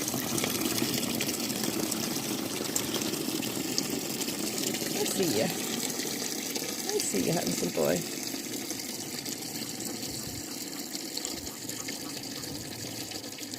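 Steady running water gushes and splashes continuously as a horse trough is filled, while a person speaks softly over it.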